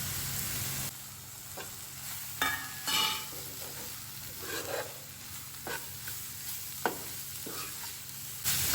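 Spices and ginger garlic paste frying in a pan with a steady sizzle, broken by several scraping stir strokes at uneven intervals, close and clear, with no talking.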